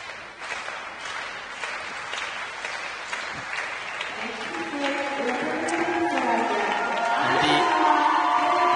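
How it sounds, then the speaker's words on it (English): Crowd cheers and applauds for the Slovakian junior ice dance team at a Junior Grand Prix figure skating event in Egna, 2022. The applause swells louder and fuller toward the end, with whoops over the steady clapping. "Resounding cheer for the Slovakian team"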